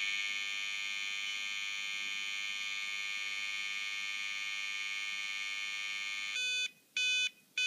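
An electronic timer emits a steady, piercing alarm tone while receiving a program from a Palm Pilot, holding continuously for several seconds and then breaking into short pulsed beeps at the end.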